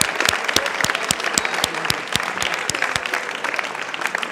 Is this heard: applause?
yes